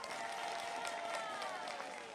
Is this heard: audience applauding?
yes